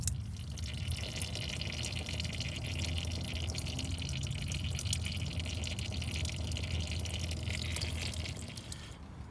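Transmission fluid draining from a car's transmission pan after the pan bolts are removed, a steady trickling drip that runs continuously for about nine seconds at moderate level, then tapers off near the end.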